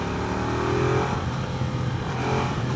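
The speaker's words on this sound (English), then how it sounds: "Very nice exhaust note." A 2015 Ducati Diavel Carbon Edition motorcycle revs with a loud, aggressive exhaust note. The engine runs steadily, swelling near the one-second mark and again toward the end, close to the listener and with no talk over it.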